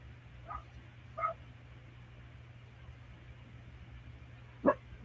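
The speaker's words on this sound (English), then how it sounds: "That dog's in my yard barking over here on the other side of me." A dog barks a few times at a distance, short separated yips followed by a sharper bark, over a steady low hum.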